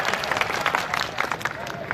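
A crowd at a Hindi poetry recital in Bareilly claps in a dense, continuous burst of applause, loud and close throughout.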